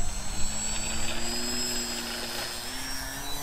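The electric motor of a foam-board model trainer airplane on its maiden flight whines with a steady high-pitched tone and gently shifting pitch, moderately near, with a light gusty rumble underneath and no talking.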